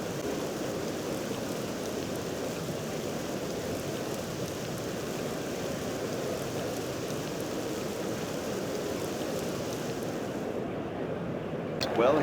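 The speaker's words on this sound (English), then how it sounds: "The rain beginning to pour down." Heavy rain pouring down on a cricket ground in the video game Cricket 07, a dense, continuous hiss of downpour at steady loudness throughout, with a sharp click right at the end.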